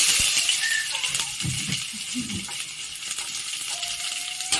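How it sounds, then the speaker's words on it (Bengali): Raw onion dropped into hot oil, giving a steady bright sizzle and crackle with a few clinks and stirring sounds, close and continuous throughout. "তেলটা অনেকটা গরম হয়ে গেছে। এবার এর সাথে আমি দিয়ে দিলাম কাঁচা পেঁয়াজ।"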